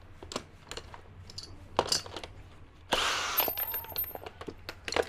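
A small electric screwdriver removes screws from an oscillating fan being repaired, with a close whirring burst of about a second amid scattered taps and clicks of handling parts.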